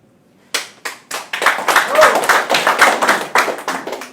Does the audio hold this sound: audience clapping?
yes